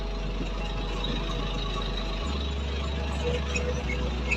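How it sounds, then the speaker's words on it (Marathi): A tractor towing a water-filled tanker runs through a quarry pit, its engine thrumming in a steady low knocking idle-like drone, loud and close throughout. "तो गेला पुढं आमचा ट्रॅक्टर."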